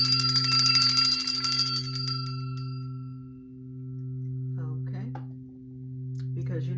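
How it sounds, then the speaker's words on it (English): A single bell is struck and rings out with a long, sustained shimmering tone that slowly fades, with a few faint sounds later. "I just want to use my bell here to clear away"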